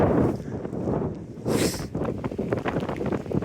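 Gusty wind on a rainy day in the Yorkshire Dales blusters against the microphone in a rough, rushing roar that swells and dips over a few seconds.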